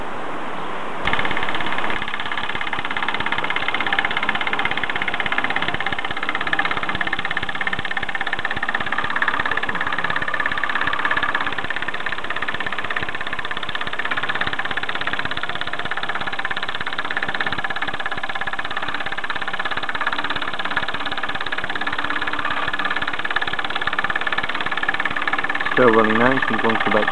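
A 1953 Mamod MM2 model steam engine chugs steadily and continuously, a rhythmic mechanical knocking with a low vibrating hum, close by and unbroken throughout.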